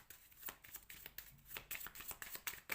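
Oracle cards being shuffled by hand, a close, quiet run of soft riffling slaps and sliding card noises in quick irregular rhythm, with no voice.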